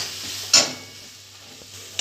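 Spice paste for a vegetarian moong dal ghonto, sautéed in a pan with a splash of water, gives a soft, low sizzle with one brief scraping stir near the start.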